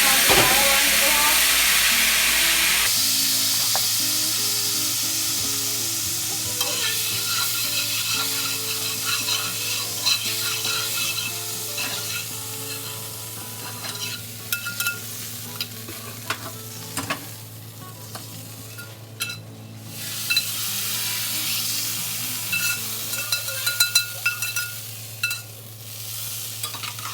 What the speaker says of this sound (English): we'll let that simmer for about an hour or so